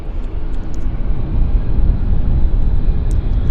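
A Central Mountain Air Dash 8-100 turboprop airliner passes at Vancouver airport, a steady broadband engine roar rumbling continuously at moderate distance, with no talk.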